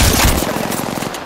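Rapid automatic gunfire in Apex Legends, a loud, close burst of quick successive shots lasting just over a second.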